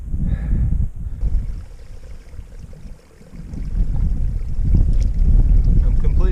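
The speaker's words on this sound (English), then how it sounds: "It's a windy, or reasonably windy day and quite warm" Wind gusts across a hillside by a small stream, rumbling loudly against the microphone in uneven surges that dip briefly and then build again toward the end.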